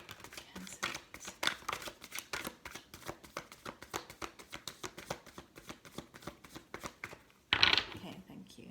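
Tarot cards being shuffled during a tarot reading make rapid, crisp riffling clicks in a steady rhythm, close and fairly quiet, ending in a louder burst of flicking near the end.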